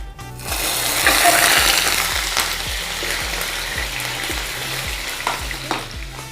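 Chicken wings frying in hot oil with caramelized sugar in a pan, giving a loud, continuous sizzle with repeated scraping stirs and clinks throughout.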